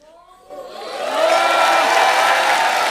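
A studio audience bursts into loud applause and cheering for Sajid at a Hindi film event, swelling from a quiet start into a sustained roar of claps and whoops.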